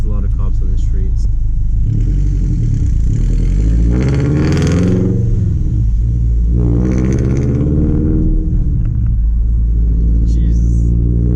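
A car engine revs and rumbles loudly and steadily while driving on a city street, with surges in revving around the middle, after a driver's first drive in six months in a stiff car; talk is mixed in.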